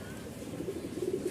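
Pigeons, including a paired exhibition couple, coo softly in a repeated low murmuring rhythm, several overlapping coos rising toward the end against a steady background hum.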